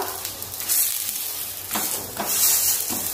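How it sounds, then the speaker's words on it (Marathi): An aloo cheese paratha roasts on a hot pan with a soft, steady hiss and a few brighter sizzling swells, close and fairly quiet. "आता आपण दुसऱ्या साईडने सुद्धा असंच मस्त गोल्डन कलर वरती भाजून घेणार आहोत"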